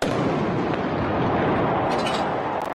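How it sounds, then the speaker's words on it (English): An artillery gun fires during a ceremonial salute at a presidential swearing-in, one loud, close boom that rolls on as a sustained roar. "Gun number two, fire!"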